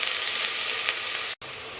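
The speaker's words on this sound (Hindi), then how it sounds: "तो अब मैं इसको इसमें डाल के फ्राई कर लूँगी।" Finely chopped onions frying in hot oil with cinnamon for aloo gosht: a dense, steady sizzle close up, continuous and fairly loud, broken by one brief dropout near the end, with no talking.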